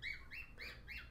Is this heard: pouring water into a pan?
no